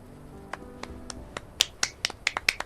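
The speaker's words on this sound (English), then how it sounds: "Sarcastic clapping." Slow, sparse claps in the video game Final Fantasy 7 Rebirth, a few isolated crisp hits at first that grow quicker and louder toward the end, close and dry, with no talk.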